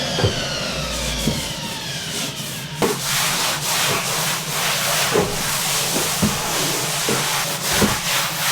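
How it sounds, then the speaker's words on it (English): A cleaning cloth is wiped across dusty interior walls in a series of close, rough rubbing strokes, punctuated by regular soft knocks under a continuous airy hiss. "then just with a cleaning cloth I'm just going to wipe over"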